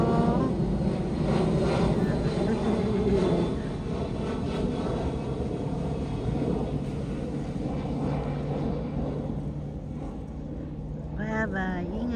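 An airplane passes overhead in a snowy outdoor setting, a loud sustained engine drone that eases slightly over time, while people talk and call out nearby.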